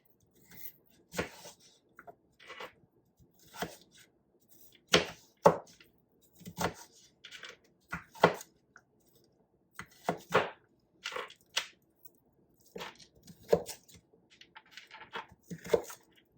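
Kitchen knife dicing vegetables on a cutting board for turmeric lentil soup, irregular crisp chops in short clusters, close and clear with quiet gaps between strokes.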